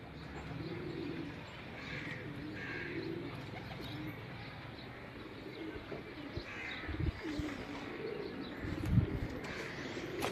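Pigeons coo softly and steadily on a rooftop loft in Multan, with occasional chirps and faint flutters over a constant low outdoor hum.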